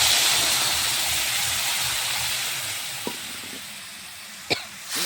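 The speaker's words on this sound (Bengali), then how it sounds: "মাছ ভাজা তেলে পেস্ট করা মশলাগুলো ঢেলে দেবো।" A loud, broad sizzle bursts up as ground spice paste is poured into the hot oil left from frying fish. It gradually settles into a softer hiss, broken by a couple of sharp clinks near the end.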